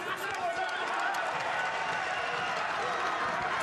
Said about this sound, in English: Crowd encouraging Selby because they sense that he's under a bit of pressure here.